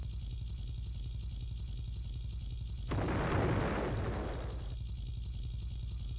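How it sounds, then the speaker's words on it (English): An explosion in the Roblox game bursts over a steady low engine-like drone, a single broad roaring blast that swells suddenly, holds for about two seconds and then fades back into the drone. "Got the explosion, sir."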